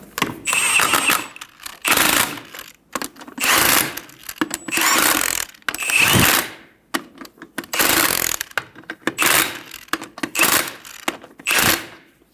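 A ratchet wrench snugs down the lug nuts on the front wheel of a 2000-2007 Ford Focus. About ten loud, close bursts of rapid clicking come in quick succession with short gaps between them, and no talking.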